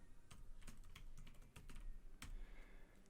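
Fingers typing by hand on a computer keyboard, a steady close-up patter of key presses with a few heavier strokes, continuous over a few seconds with no talking.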